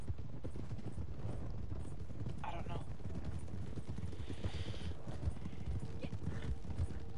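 Several horses plod along a trail ride in Red Dead Online with steady clip-clop hoofbeats, close and even, while faint mechanical clinks and a short high chirp surface in the background.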